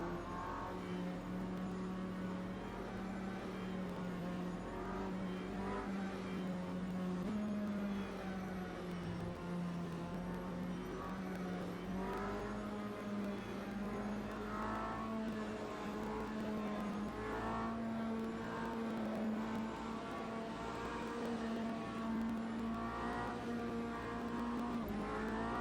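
Steady race car engine drone from Automobilista 2 sportscar racing at Long Beach, holding a sustained, slightly wavering pitch with small shifts in revs, fairly quiet and continuous throughout.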